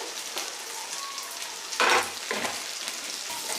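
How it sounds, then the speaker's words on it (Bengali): Chopped onion and capsicum frying in oil in a pan, a soft steady sizzle broken by a couple of louder bursts of stirring and scraping, close and fairly quiet, no speech. "এক থেকে দু মিনিট এটাকে আমি তেলের মধ্যে ফ্রাই করে নিচ্ছি পেঁয়াজ এবং ক্যাপসিকাম দুটোই"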